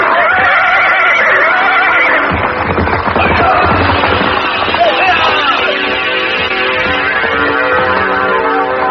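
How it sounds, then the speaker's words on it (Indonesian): A horse neighs and whinnies loudly while being ridden quickly down a hillside at dusk, the cries sustained over dense, busy background sound with possible hoof and action noises throughout. "Dapat bergerak dengan cepat menuruni lereng bukit sambil menunggang kuda"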